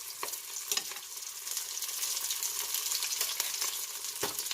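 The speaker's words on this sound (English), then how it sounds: "Now all you have to do is fry it." Akra batter fritters, some coated with a whole shrimp, frying in hot oil as a steady crackling sizzle, with occasional sharper pops rising over the bubbling.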